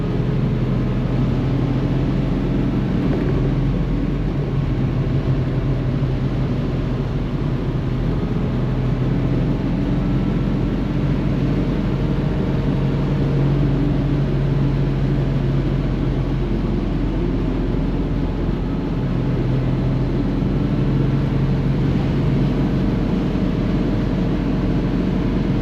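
A 1970 Ford Boss 302 Mustang cruises at 55 mph, its steady engine drone and road rumble holding constant and close throughout with no speech.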